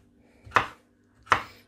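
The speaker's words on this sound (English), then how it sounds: "So we're going to cut them into half and then we slice them as well." Two crisp knife cuts through vegetables on a cutting board, close and clear, spaced under a second apart in a quiet kitchen.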